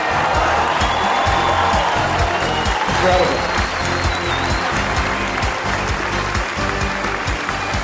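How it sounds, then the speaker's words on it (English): A crowd at a Scientology church opening in Sacramento claps in sustained applause, a thick continuous patter with voices calling out over it. "Give yourselves a round of applause."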